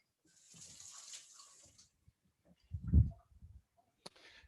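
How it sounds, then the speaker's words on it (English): Tap water briefly runs as a kitchen knife is rinsed during a cooking demo, a soft splashing hiss that fades, followed by a few quiet knocks and clatters with no speech. "So I'm just going to rinse my knife."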